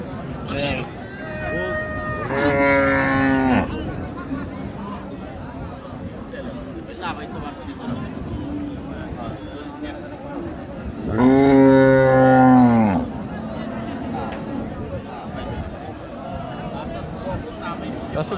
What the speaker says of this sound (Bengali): এই যে মোটামুটি কয়েকশো গরু আছে